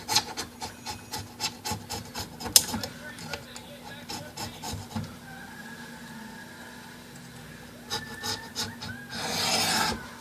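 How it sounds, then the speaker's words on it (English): Metal spudger scraping double-sided tape residue off a Panasonic CF-29 laptop during a touchscreen replacement, a series of rhythmic close rasping strokes, pausing midway, then more scrapes and a longer rub at the end. "we're going to clean the residue, the remainder of the double-sided tape. I use my metal spudger"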